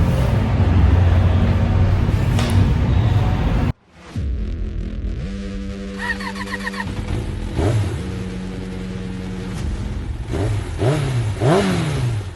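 A 2026 Bristol Kove 450R motorcycle engine roars loudly, cuts out briefly, then idles and is blipped through several sharp revs rising and falling, close by and with no talking.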